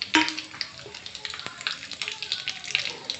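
Cumin, black cardamom, cinnamon, stone flower, shahi jeera and mace crackling in hot oil in a pan for vegetable biryani, a steady close sizzle with small pops and spatters throughout.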